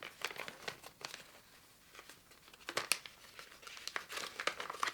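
A subscriber's parcel being opened at close range, with bursts of packaging crinkling and crackling and occasional tearing scrunches, loud and irregular, with no talking.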